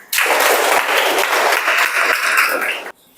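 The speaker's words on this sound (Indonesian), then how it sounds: "kasih tepuk tangan buat Evan" Classroom of students applauding a classmate in a physics lesson, a burst of loud, dense clapping that starts abruptly, holds for about three seconds and cuts off.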